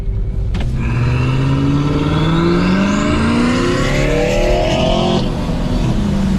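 A loud 2020 Subaru BRZ engine revs and whines while drifting on wet roads, pitch climbing and shifting continuously as it accelerates hard, with a steady roar throughout.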